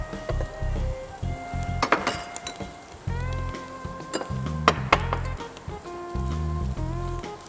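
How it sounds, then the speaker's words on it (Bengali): Onions frying in a pan are stirred with a utensil, making repeated close clinks and scrapes against the pan over a steady background of sizzling, with no speech. "পেঁয়াজটা খুব ভালো করে ভাজতে হবে।"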